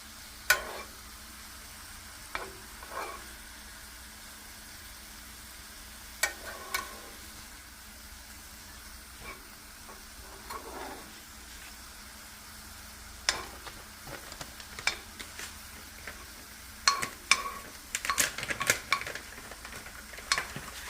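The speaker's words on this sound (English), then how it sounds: "I would leave the fire at low to medium heat because you don't want it to start burning and you don't want to cook your eggs too fast" Eggs and vegetables for a veggie scramble cook in a pan over low to medium heat, giving a faint steady sizzle broken by scattered spatula scrapes and light clinks of utensil against pan, with no talking.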